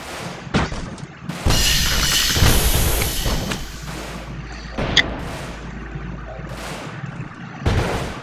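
Cannons firing in the 2D steampunk airship battle game Airships: Conquer the Skies, a series of loud booming blasts with rumbling decay, irregularly spaced and close, without talk.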